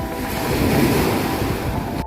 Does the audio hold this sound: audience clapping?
no